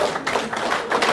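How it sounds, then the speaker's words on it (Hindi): Dense, sustained crowd applause at a Jammu and Kashmir political gathering welcoming a leader who joined the BJP, a steady wash of many hands swelling slightly in places, with no clear speech. "तालियां बंद नहीं होनी चाहिए, तालियों का शोर जबरदस्त"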